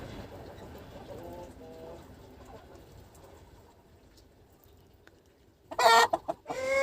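A broody hen clucks softly and repeatedly at first, then a burst of loud, agitated squawking close by, with a little talk in the background.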